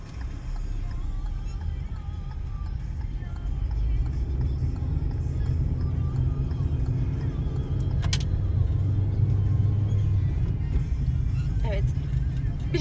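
Car engine idling and then rising in a steady low rumble as a learner driver pulls away in first gear, heard from inside the cabin, with a faint jingle of keys partway through.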